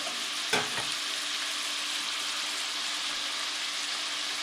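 Bacon frying in a skillet, a steady close hiss and crackle of sizzling fat with a brief clatter near the start, otherwise continuous and even.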